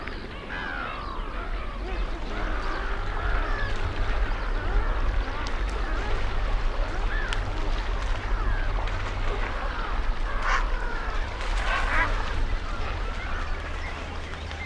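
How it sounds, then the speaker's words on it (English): Hungry bird fledglings beg for food across a crowded breeding ground, a dense, continuous chorus of overlapping chirps and wavering calls with a steady low rumble beneath. "The entire breeding ground is filled with the sounds of fledglings begging for food."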